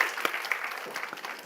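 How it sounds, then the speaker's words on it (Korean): Church congregation clapping together in glory applause at the close of a Sunday afternoon service prayer, a steady dense patter of hands with a few sharper claps standing out, held at a moderate level throughout. "하나님께 영광의 박수 올려드리겠습니다"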